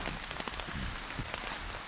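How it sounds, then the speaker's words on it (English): Steady rain drums on a tent pitched on a hiking loop by a lake, a close, dense patter of drops hitting the fabric without pause and with no voices. "hopefully that'll die down once this rain moves through"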